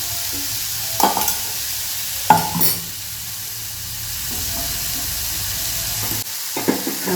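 Six small chillies cook in a pan, giving a steady low sizzle and hiss, broken by a couple of sharp metallic clinks from stirring or handling the cookware.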